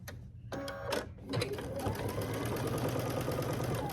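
Sewing machine stitching quilt binding on a Grinch-themed quilt: a couple of short bursts, then a continuous fast mechanical chatter of the needle, moderately near and fairly quiet.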